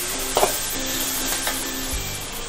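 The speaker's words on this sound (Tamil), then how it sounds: "வெங்காயம் வதங்கிட்டு இருக்கும்போது நம்ம எடுத்து வச்சுருக்க சோம்பு சேர்த்துக்கோங்க" Onions sauté in oil in a pan while a crab masala is being made, giving a soft, steady sizzle with a couple of brief stirring knocks and no voices.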